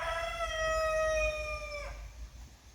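A young rooster crows once, a strained, wavering call held for nearly two seconds in a coop housing many small roosters, with low farmyard rumble beneath.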